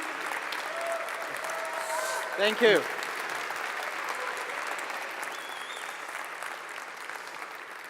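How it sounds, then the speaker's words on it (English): An audience at a market launch event in Amsterdam applauds with steady, moderately distant clapping, while someone briefly says a few words over it midway. "Big applause for Alexandru"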